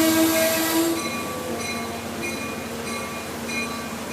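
An Amtrak passenger train passes by at Guilford, Connecticut, with a sustained horn blast at the start, then a steady rumble of rail cars with faint tonal horn echoes and wheel noise.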